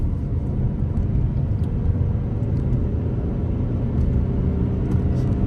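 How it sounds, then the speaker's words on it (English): Car driving across the Mackinac Bridge, heard from inside as a steady low engine and road rumble that holds even and unbroken throughout, with no one talking. "Let's go drive across the bridge"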